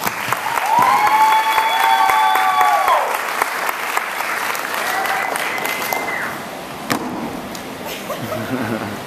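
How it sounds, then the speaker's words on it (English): Audience applause at a Pecha Kucha talk event, a broad, sustained burst of many hands clapping that fills the clip, loud at first and gradually thinning, with a couple of brief whoops or calls riding over it. "Let's give him a round of applause."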